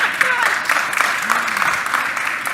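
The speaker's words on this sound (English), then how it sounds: "You can clap." Brief audience applause at a morning summit welcome, a steady wash of clapping from a modest crowd, with a voice talking over it.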